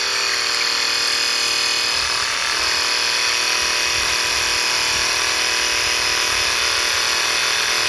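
Graco Ultra Max handheld airless paint sprayer running steadily while flushing and cleaning, a continuous loud hissing spray with motor whine that holds without a break from start to finish, no talking.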